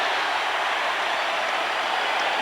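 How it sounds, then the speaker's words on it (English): A loud, dense roar comes from a packed football stadium crowd at a Denver Broncos game against the Raiders. The broadband din holds steady throughout, with no breaks and no clear speech. "Crowd really noisy right now."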